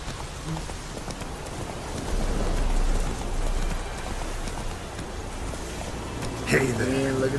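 Steady rain hisses during a storm in the video game Witcher 3, a dense wash of falling water with no distinct thunderclap, and a brief tonal sound near the end.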